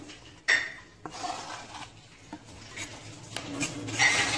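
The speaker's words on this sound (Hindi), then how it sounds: "अभी हम इसको बॉल में निकाल रहे हैं" Chopped radish scraped off a board into a bowl gives sharp clinks and knocks of dish and utensil, with a few soft scraping bursts between them, close and fairly clear.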